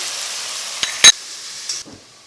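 Spinach, pigeon peas and okra frying in a pan, giving a steady close sizzle with a couple of short sharp stirring scrapes and pops before the hiss fades out.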